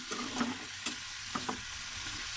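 Vegetables sizzle in a hot pan while a spoon stirs them, a soft, steady frying hiss broken by a few quiet scraping strokes, fairly faint and with no voices.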